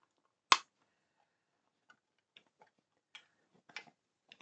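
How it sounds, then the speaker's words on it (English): Plastic parts of a 1:8 scale Batmobile Tumbler model snap into their lugs, one sharp click first, then several softer scattered clicks in a quiet room. "You can hear them clipping there."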